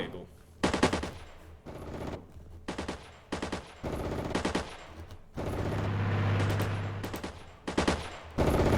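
Machine gun fire in the Cold War tactics game Armored Brigade, clipped bursts of rapid shots repeated with short gaps, joined for a while by a steady engine-like drone.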